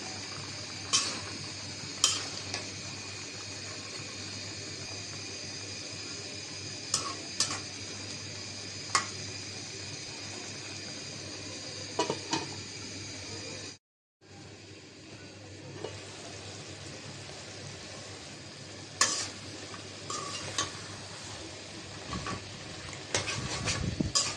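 Taro, lentils and chicken bones stir-fried in a pan for a curry, giving a steady low sizzle with scattered sharp clinks of a utensil against the pan and a brief drop to silence midway, no talking.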